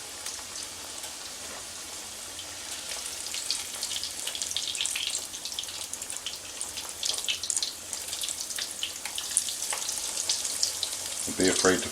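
Chicken cutlets fry in a pan for NY deli-style cooking, giving a steady, bright sizzle with crackling pops throughout that grows slightly busier toward the end.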